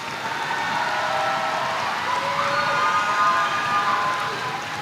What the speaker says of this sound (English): Please give the graduates of row 6 a round of applause.